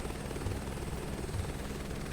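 Helicopter engine and rotors at full throttle in Flight Simulator 2024, a dense, constant roar with a faint rhythmic rotor thump, loud and steady throughout.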